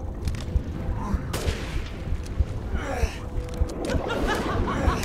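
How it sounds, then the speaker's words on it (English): Sniper rifle shots in the video game Resident Evil Village ring out as several sharp, loud reports over a dense, busy game soundscape. "A to sniper rifle."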